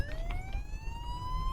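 An ambulance siren wails in a steady, rising tone, loud and fairly close over a low traffic rumble, with no voices.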